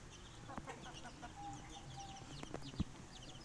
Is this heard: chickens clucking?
yes